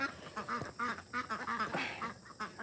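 Ducks on a homestead quack in quick, uneven bursts, close and fairly quiet, several calls overlapping across a couple of seconds.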